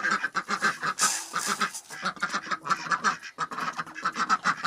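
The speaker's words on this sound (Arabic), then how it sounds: "البط ده مفتري ممكن يدخل ياكلني انا والبط التاني" Several domestic ducks kept on a rooftop quack repeatedly and loudly close by, their nasal calls coming in rapid overlapping bursts throughout.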